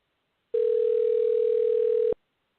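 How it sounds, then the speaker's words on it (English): A steady electronic tone from a telephone line as a call is placed during a radio show, one continuous loud, clean beep lasting about a second and a half, heard alone with silence around it. "And it's ringing."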